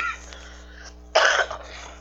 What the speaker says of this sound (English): it's just this bronchitis cough is still here